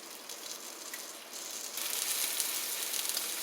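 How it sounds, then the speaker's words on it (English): Broad hissing sizzle of hot oil as Philly steak with sweet onions is stir-fried, growing louder partway through as frying intensifies, steady and close with no talking. "the oil is hot enough and it is stir frying"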